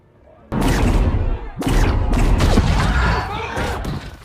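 Gunfire in a chaotic action scene from the Maze Runner film, with loud bursts of shots and impacts arriving in rapid clusters, overlapping with shouting voices and other clatter.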